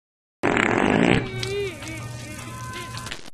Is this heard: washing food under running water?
no